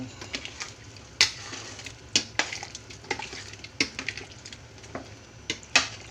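Spoon stirring green curry with chicken and eggplants in a pot, with several sharp metallic clinks and soft scraping over a low bubbling simmer, fairly quiet and close.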